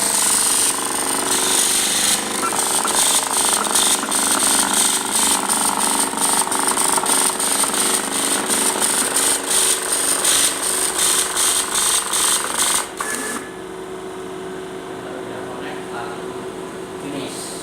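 A Printronix P7000 line printer runs a test page, giving a loud, steady mechanical rattle with rapid repeated impact bursts for about thirteen seconds, then drops to a quieter hum.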